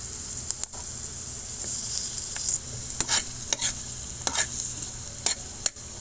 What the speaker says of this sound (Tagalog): Nilagyan ko na po ng sibuyas. Lagay na po natin yung carrots.